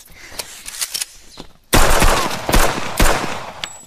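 A burst of gunfire, several sharp loud shots in an irregular volley, starting quieter then a sudden louder cluster of cracks and bangs with short gaps between them.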